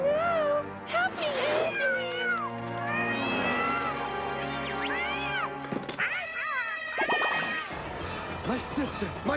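A cartoon cat meows repeatedly in a rising, sing-song series of close, loud cries mixed with voices and background music.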